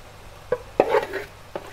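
Onion, pineapple, crab and lobster stirred in a pan, a few brief scraping and clattering knocks of a utensil against the pan over a quiet background.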